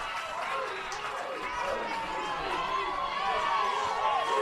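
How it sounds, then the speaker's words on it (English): A crowd at a Mississippi vs Louisiana college baseball game rises in a steady, broad roar of cheering and chatter that swells slightly toward the end, with a voice talking over it. "You hear life out of the crowd for the first time since the first inning."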